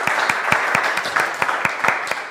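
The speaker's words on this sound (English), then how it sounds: "Would you give them another round of applause?" Audience applause at a small startup pitch gathering, close and steady clapping with distinct individual hand claps standing out in a regular rhythm.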